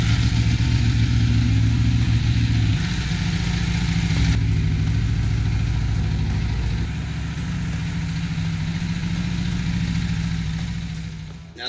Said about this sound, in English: we're going to start the motorcycle, let it warm up for a few minutes